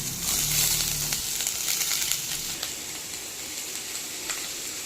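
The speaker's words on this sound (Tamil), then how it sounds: "இப்போது ஒரு கடாயில் இதில் பட்டர் சேர்த்துக்கலாம். பட்டர் மெல்ட் ஆகிடுச்சு. காய்கறிலாம் ஆட் பண்ணிக்கலாம்." Vegetables dropped into melted butter in a kadai burst into a loud, close, hissing sizzle that settles into a steady frying crackle.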